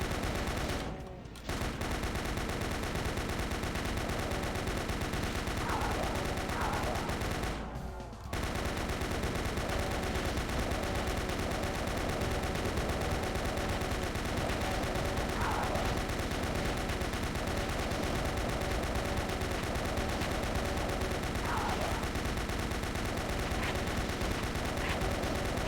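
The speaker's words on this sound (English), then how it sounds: "When used like that, chain gun's pretty fucking satisfying." A chain gun fires in the video game Doom, a dense, continuous rapid-fire roar that runs almost unbroken for a long stretch, stopping only for two brief pauses, loud and saturated with other game noise.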